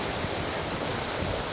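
Steady rushing water from a small waterfall at a resort, a constant broadband hiss of falling water close by with no pauses and no voices.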